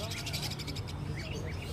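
Caged exotic birds such as conures and finches at an outdoor bird market chirp and call in quick repeated bursts, with a low murmur of people and background noise underneath.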